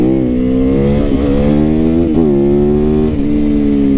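A motorcycle revs while being ridden on country neighborhood roads, its engine note loud and close, rising and dipping through several throttle changes over a few seconds, with no talking.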